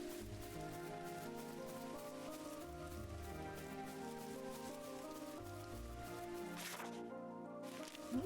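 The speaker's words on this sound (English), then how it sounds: "Oh no, it's raining." Steady patter of rain in the game Chained Echoes, layered over music and ambient tones, continuous and fairly even throughout.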